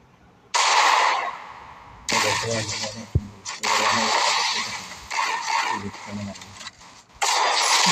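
Gunfire in the Free Fire mobile shooter game comes in loud, repeated bursts of shots separated by brief gaps, with a voice talking over the action.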